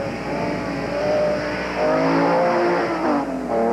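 A loud race car engine with no muffler roars and revs, rising in pitch as it accelerates nearby at an autocross event, raw and unmuffled.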